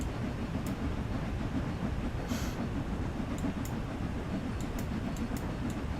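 An express locomotive running in Train Sim World 2, a steady low rumble with faint rhythmic clicking of wheels on rail joints, continuous and even throughout.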